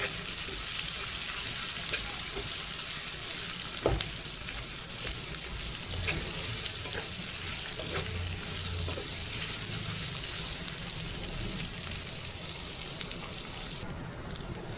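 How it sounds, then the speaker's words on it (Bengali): Onions frying in a pan for a rohu fish curry give a steady, loud sizzle that runs unbroken throughout, with occasional clinks of stirring. "এখন দিয়ে দিব পেঁয়াজ। সুন্দর করে ভেজে নেব।"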